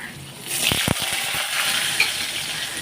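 Cumin seeds crackle and sizzle in hot oil in a wok, a steady frying hiss with a couple of sharp pops near the start.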